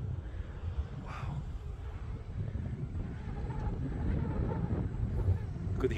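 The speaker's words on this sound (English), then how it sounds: "Could hear the wind." Wind buffets and rumbles across the microphone in a steady low roar on a hike near the top of Coronet Peak, Queenstown, New Zealand, gusting slightly louder toward the end, with no clear speech.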